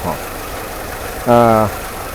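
A car engine idles at about 750 RPM during an inspection of a car with a minor vacuum leak, giving a steady low hum under which a short tonal burst rises briefly midway.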